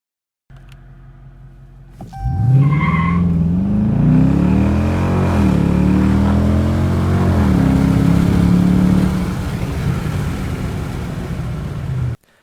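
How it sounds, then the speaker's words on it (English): A 2017 Dodge Charger R/T Daytona V8 with active exhaust fires up and accelerates hard, a loud, deep rising roar with shifting pitch that holds steady for about ten seconds, close to the listener, with no talking. "New for 2017 on all V8 models is active exhaust, so this car really sounds like a true muscle car"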